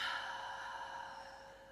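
A slow, steady breath is released through the mouth as a soft, airy sigh during a guided meditation, faint and alone against a quiet, even background hum.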